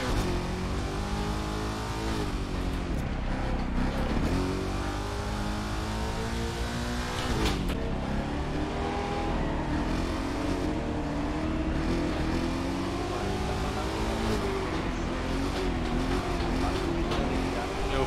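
A sports car engine revs steadily and loudly in The Crew 2 racing game, pitch sweeping up and down through gear changes for the whole stretch, with brief tire squeal and some talk and laughter mixed in.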